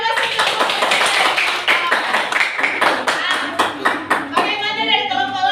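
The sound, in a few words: applause from a group in a classroom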